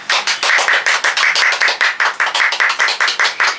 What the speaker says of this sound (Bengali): এবারে সুন্দর করে কেকটা কাটিং করা হবে আমরা সবাই ক্ল্যাপিং করছি